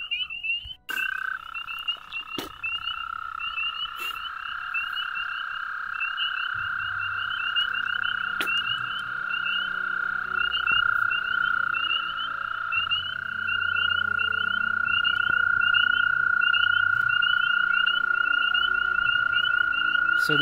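Breeding toads calling from a pond after release, a continuous high trill that holds steady for the whole stretch, joined midway by lower croaking, with a few sharp clicks near the start.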